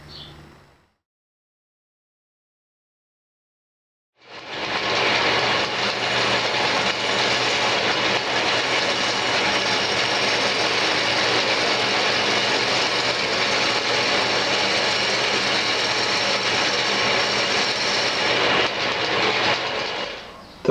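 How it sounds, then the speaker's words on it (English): A bowl blank is rough turned on a wood lathe with a bowl gouge. After a few seconds of near silence, a loud, continuous broadband roar of cutting rises suddenly and holds steady for about sixteen seconds. "first cut you're going to want to learn with a bowl gouge is going to be your push cut"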